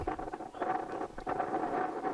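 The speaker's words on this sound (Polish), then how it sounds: "wiatr, który w Giebutowie w tym dniu wiał naprawdę bardzo mocno." Strong wind buffeting the microphone at an outdoor football match in Giebułtów, a rough rumbling roar that surges and dips in gusts.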